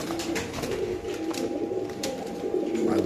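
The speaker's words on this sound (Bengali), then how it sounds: "এই হলো কবুতরের ডাক" Pigeon coos from a large white King pigeon for sale, soft low rolling calls repeating steadily under a steady background hum, close and moderately loud.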